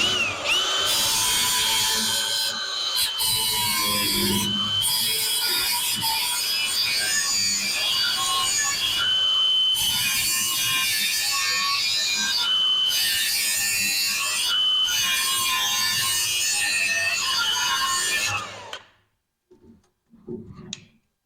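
A power tool cuts into the body of a van, a loud, steady, close grinding whine that runs without a break for about eighteen seconds and then stops abruptly.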